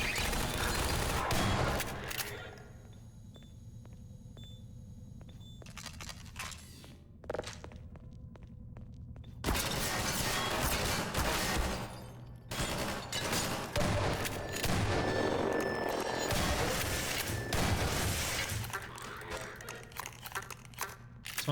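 Gunfire in the video game Half-Life 2, bursts of shots and sharp impacts separated by quieter stretches, with game voices and footsteps mixed among them.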